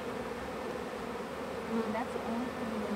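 Honey bees swarming around an open hive during an inspection, a dense, steady buzzing hum close by, with individual bees droning past now and then.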